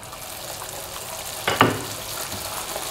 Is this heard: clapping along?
no